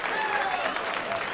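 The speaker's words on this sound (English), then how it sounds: "Listen to the crowd here at the conference center." Conference-center crowd applauding a pool trick shot at the 2004 US Open, a steady, dense wash of clapping that fills the whole moment at close range.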